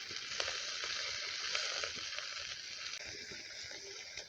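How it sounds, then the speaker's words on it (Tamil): Thuthuvalai leaves being sautéed in a pan with chili, garlic and ginger, giving a continuous close sizzle and crackle with faint stirring scrapes and no talking. "ஏற்கனவே வதக்கி வச்சுருந்த அந்த தூதுவளையும் இப்போ நம்ம சேர்த்து ஒன்றா வதக்கணும்."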